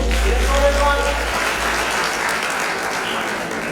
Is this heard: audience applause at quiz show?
yes